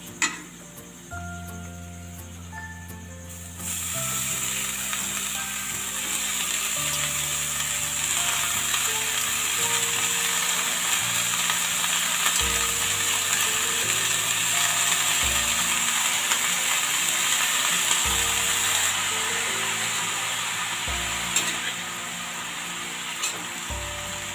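Chaulai greens sizzling as they fry in a pan, a steady loud hiss that starts when the greens go in, with occasional scraping and stirring knocks, no talking.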